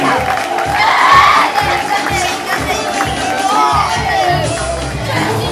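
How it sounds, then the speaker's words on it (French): An audience at a wax-fabric fashion show cheers and whoops loudly over rhythmic thumping music, with crowd noise rising and falling throughout. "Applaudissements pour Sandrine"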